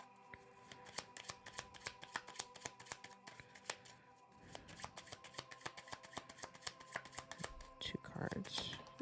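Tarot cards shuffled and drawn by hand, a rapid run of crisp riffling flicks and slaps close to the microphone, with a brief rustle near the end.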